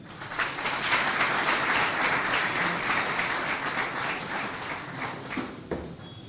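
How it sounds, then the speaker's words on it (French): Audience applause for a speaker at a conference on African integration in Kinshasa, a steady wash of many hands clapping that holds fairly even for several seconds, then thins out toward the end. "Je me présente et je vous prie de l'applaudir."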